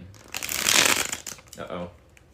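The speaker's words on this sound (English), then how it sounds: "Alrighty, here it is, the bridge shuffle." A deck of playing cards gets a bridge shuffle, with a loud riffling flutter that swells and then fades, followed by a shorter second riffle as the cards are squared up.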